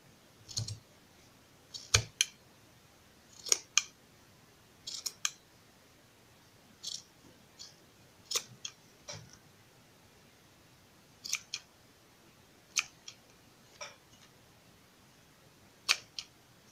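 Scissors snip cord thread for a crochet bag, giving sharp, close clicks in irregular clusters with quiet pauses between cuts.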